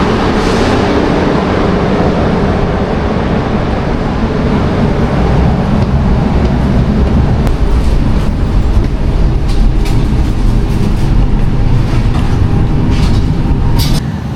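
Loud, continuous rumble of a moving train with rattling carriages and occasional clicking from the rails, heard up close from on board.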